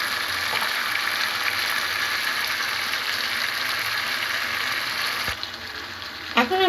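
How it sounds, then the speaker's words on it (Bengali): Eggs frying in a covered pan, an even, dense sizzle holding steady for several seconds before a lid clatter and brief stirring sounds near the end. "এখন আবার আমি ডিমগুলাকে নেড়ে চেড়ে আবার ঢাকনা দিয়ে ঢেকে দিব।"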